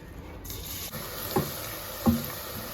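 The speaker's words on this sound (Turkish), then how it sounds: "Soğanları kavurdum görmüş olduğunuz gibi." Two large onions sizzle steadily in a hot pan with carrots, with two brief scraping stirs. No one speaks.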